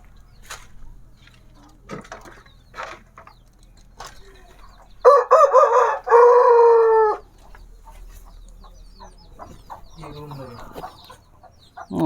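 Hens on a farm in a mango orchard give scattered clucks before a rooster lets out two loud, close crows in the middle, with soft voices and rustling around them.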